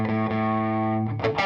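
Electric guitar played through an Orange amplifier with the Gristle gain setting, a thick distorted sustained chord ringing loud and close before a quick change to new notes at the end.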